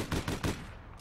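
Gunfire in the online shooter APB Reloaded: a quick series of about three or four sharp shots in the first half second, then a fading tail and quieter game sounds.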